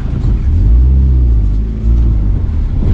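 A car engine rumbles low and steady while reversing on a steep mountain road in Ladakh, loud and close with a brief dip midway and no talk over it.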